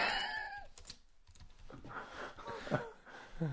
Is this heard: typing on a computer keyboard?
yes